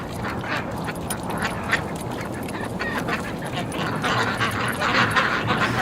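Several ducks quack in a busy, overlapping chorus at moderate distance, the calls coming in quick irregular bursts over outdoor background noise.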